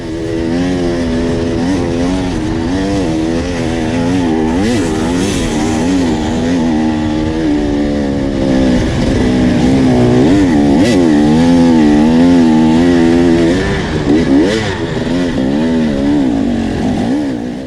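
A Beta dirt bike engine revs hard and continuously on a hill climb during an extreme hard enduro race, pitch climbing and dropping as the throttle is worked, loud and close throughout.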